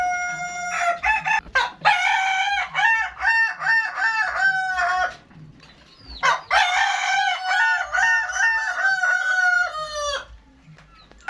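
A Kokok Balenggek rooster from West Sumatra crows loudly twice, each long harmonic call rising and falling, with a brief quiet gap between the two crows.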